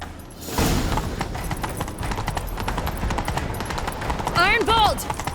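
A horse gallops in The Witcher 3 with a steady, fast clatter of hooves under layered game sound and score, and a brief tonal flourish near the end.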